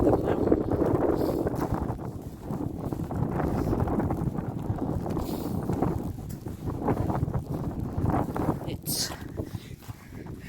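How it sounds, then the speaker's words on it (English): Strong blizzard wind roars across a mountainside partway up Arenig Fawr in heavy snow, a continuous dense buffeting that hits the microphone loudly throughout, with a brief spoken word near the start. "The snow is pouring on us, the wind is high"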